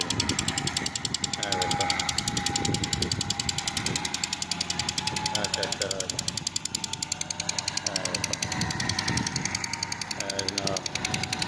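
Tractor 385 engine running steadily during laser leveling of a field, a continuous rough mechanical drone with rhythmic knocking throughout, while people talk over it.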